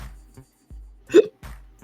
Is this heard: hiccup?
yes